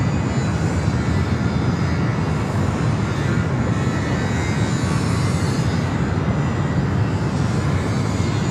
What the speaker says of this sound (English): Next arrival is United, flight 2391, coming from SFO, a 737-800